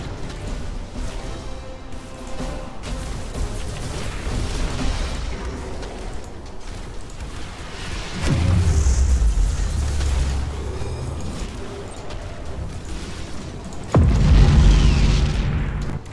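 Ship cannons firing in a Tyranids space fleet video game: two deep booming blasts, one near the middle and one near the end, rise over a steady bed of game ambience, with no talk.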